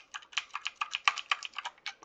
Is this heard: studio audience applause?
no